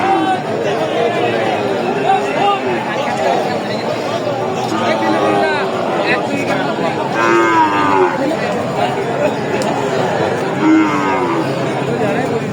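Sahiwal bull calves at the Raniganj cattle market in Ghoraghat moo repeatedly amid a busy crowd's chatter, with people talking close by over the steady hubbub.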